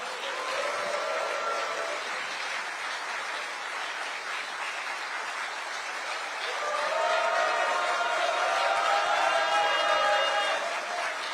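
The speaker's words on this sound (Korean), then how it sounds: "다시 한번 뜨거운 박수와 함성 부탁드립니다" A political rally crowd applauds and cheers in a large venue, producing a steady wash of clapping that grows louder and more excited partway through, with a faint voice mixed in.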